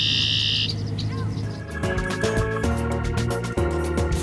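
A red-winged blackbird song rings out over a loud musical backing, with a bright trilling call at the start followed by chirps under the music.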